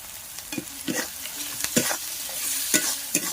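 Spices with chili powder and bay leaves sauté in a pan for a Bengali village chicken-skin dish, with repeated scraping stirs of a spatula over a continuous close sizzle and no talking.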